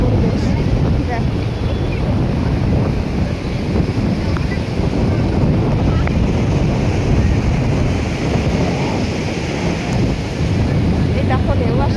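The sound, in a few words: sea waves at Digha beach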